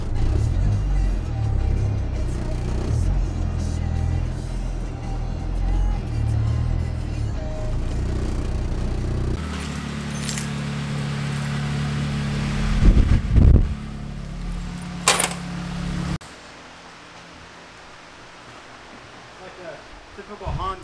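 A Honda car rolls into a shop with a steady engine and road rumble, shifting to a lower, quieter idle near the end, with a few knocks and clunks along the way.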